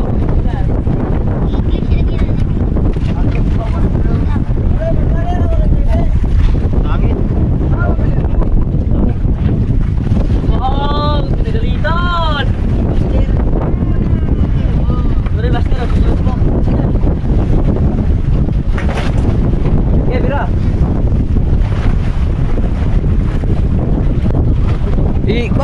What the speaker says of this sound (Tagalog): Oh, mahangin-hangin mga idol.